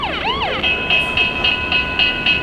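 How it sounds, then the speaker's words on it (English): An electronic model railroad crossing bell sound effect, mounted on a layout and triggered by radio control: a brief warbling sweep, then a steady train of evenly spaced, bright metallic dings, fairly loud and close with no talk. "Crossing bell."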